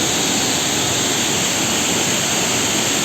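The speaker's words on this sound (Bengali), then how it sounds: "এই দেখুন গর্তের মধ্যে জলটা ঢুকে যাচ্ছে" Water from Changey Falls in Kolakham pours into a cave hole, a loud, dense, steady rushing roar heard close by with no other sounds.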